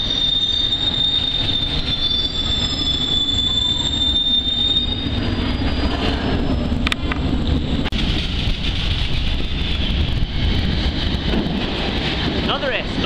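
A London Underground S Stock train arrives at Euston Square, a steady loud rumble of wheels with a high squeal early on, and a voice speaking faintly beneath.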